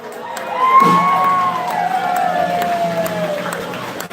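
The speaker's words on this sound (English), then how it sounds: "Give her a round of applause." An audience at a polka concert cheers and applauds, a loud sustained roar of whoops and shouts over continuous clapping that fills the room.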